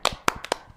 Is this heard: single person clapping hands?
yes